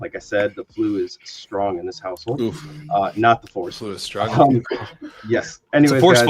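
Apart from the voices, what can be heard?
No everyday noise stands out behind the speech.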